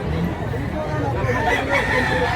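Crowd of chickens and roosters, several crowing and clucking at once, close and busy, with people chattering faintly in the background.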